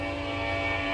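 Passing train with a sustained tonal horn-like drone, loud and steady through the whole brief moment, with no one speaking.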